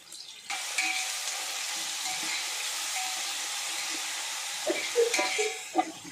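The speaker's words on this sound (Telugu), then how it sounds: "ఇది బ్రౌన్ కలర్ వచ్చేదాక నూనెలో ఇలాగా తిప్పుతూ ఉంటే బ్రౌన్ కలర్ వస్తాయి" Onions sizzle steadily while frying in ghee and oil, with a constant hiss near at hand, broken near the end by a few clinks and scrapes as they are stirred.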